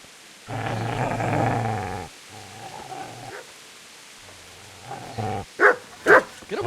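A dog in the game Kingdom Come: Deliverance growls low and long, then lets out several sharp close barks in quick succession toward the end.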